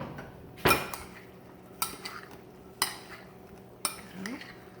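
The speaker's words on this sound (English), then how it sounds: "stir that up." A utensil stirs apple relish in a dish, giving four sharp clinks against the bowl at roughly one-second intervals, with soft scraping between them, close by and fairly quiet.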